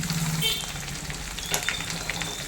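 Ginger, garlic and green chilli sizzle steadily in hot oil for a Kerala-style beef pickle, a close, continuous frying crackle with occasional sharper pops and stirring clinks.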